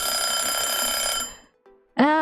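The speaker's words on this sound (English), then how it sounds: "that is another hydrate timer" A hydration reminder timer rings with a bright, steady electronic chime lasting over a second, then fades out. After a short gap it gives a brief, softer tone, and a loud rising voice cuts in at the end.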